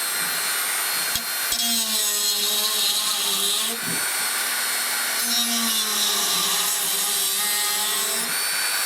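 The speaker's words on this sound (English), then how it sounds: "so let's just switch the Dremel on" A Dremel rotary tool whines at a high, steady pitch close by, its speed dipping briefly around a few moments of contact during an inverter repair, with a little talk over it.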